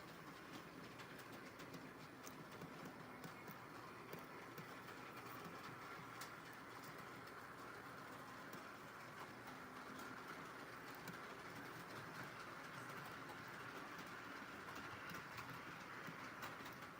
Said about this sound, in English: I like this Bachmann locomotive. It's a little loud, but it was like a pretty cheap one.